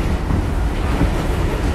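A New York City express subway train in the Bronx rushes past close by, a loud continuous rumble with a faint rhythmic clatter of wheels.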